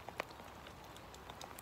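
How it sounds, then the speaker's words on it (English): Heavy rain at a tench fishing spot, a soft, continuous patter with a few sharper drops standing out near the start, fairly faint and with no talking. "But it's really heavy rain now."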